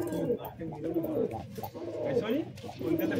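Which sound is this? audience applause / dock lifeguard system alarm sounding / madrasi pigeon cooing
madrasi pigeon cooing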